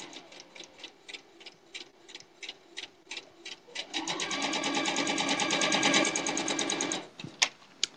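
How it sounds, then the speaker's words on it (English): A sewing machine stitches a quilt seam at a scant quarter inch, starting with slow separate needle clacks, then speeding into a steady rapid whir before stopping, close and alone. "we are sewing with a scant quarter inch"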